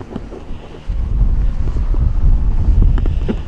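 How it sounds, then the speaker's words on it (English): Strong wind buffeting a microphone on an exposed Iron Age hill fort, a loud continuous roar and rumble that surges up after the first second and stays heavy throughout. "we've just come a couple of feet back up and we're hit by the wind again"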